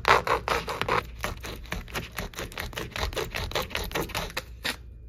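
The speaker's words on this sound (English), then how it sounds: "we're gonna use it to cut the Velcro" Knife slicing through Velcro, a rapid series of crisp tearing rips and scrapes, close and fairly quiet, each burst short and repeated in quick succession before stopping.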